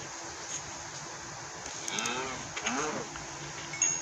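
Two cow moos from Minecraft cattle sound in quick succession around the middle, moderately loud over a quiet steady game background, with no talking.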